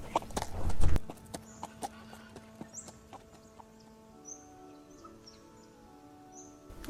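Horse hooves clip-clopping in the Miss Clue: Peril in Pemberley video game, a rapid patter of light hoofbeats after an initial louder rumble, with clucking chickens in the background and no speech.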